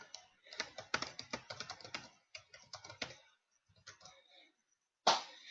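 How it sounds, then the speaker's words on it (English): Fast bursts of computer keyboard typing while a chat message is written, with irregular key clicks and brief pauses, then one sharper click near the end; close and fairly quiet. "I'm just going to type in the chat."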